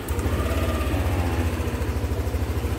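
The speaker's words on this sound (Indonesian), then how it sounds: "kita hidupin mesinnya." A Yamaha All New Aerox 155 scooter engine runs at a steady idle close by, its low, even putter continuing without a break and with no talk over it.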